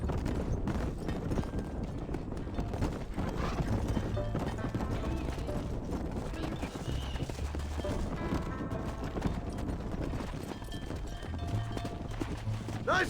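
Steady thudding hoofbeats of a herd of horses galloping in the Red Dead Redemption video game, a dense continuous clatter filling the whole stretch with occasional whinnies and faint game voices underneath.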